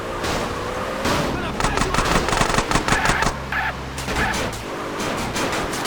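Rapid bursts of gunfire from the video game GTA San Andreas Trilogy Definitive Edition crackle for a couple of seconds amid game noise, with voices talking over the shots.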